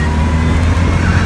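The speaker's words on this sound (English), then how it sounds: "I absolutely love it when that big supercharger kicks in, puts you back in your seat, tons of horsepower." Supercharged engine of a 2003 Jaguar XKR convertible pulling hard under acceleration, a loud, dense and continuous roar with a low rumble, very brief and with no talk.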